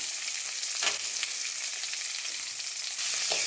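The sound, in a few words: onions and curry leaves sautéing in a pan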